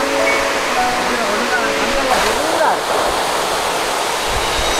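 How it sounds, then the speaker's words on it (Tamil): Small roadside waterfall on a trip in the countryside, a steady broadband rush of falling water filling the whole clip, loud and close, with faint voices mixed in underneath. "ஏதோ சின்ன நீர்வீழ்ச்சி ஒன்று, வாங்க போய் பார்க்கலாம்"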